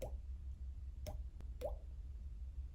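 A mouth imitates water drops: three soft, quick plopping pops spaced about half a second apart, close and quiet over faint background hum.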